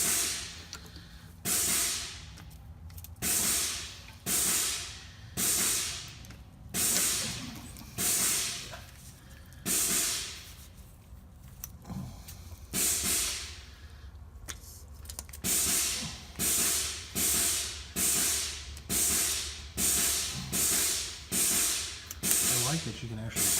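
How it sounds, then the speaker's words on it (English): A hand grease gun forces grease into a fitting while a truck is serviced, a regular series of loud hissing squirts, roughly one a second, with short pauses and a break near the middle. "that thing pumps grease out like quick"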